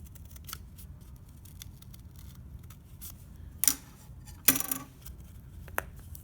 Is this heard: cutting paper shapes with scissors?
yes